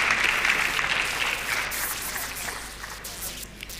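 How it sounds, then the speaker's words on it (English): A crowd at a university convocation lecture breaks into dense applause for a dignitary, loud at first and slowly thinning out as the clapping continues. "Applause for the Speaker of House of Lords."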